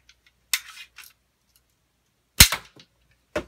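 A Nerf N-Strike Slingstrike toy blaster being fired, sharp snapping releases with brief rattles after them, a few isolated shots separated by quiet gaps.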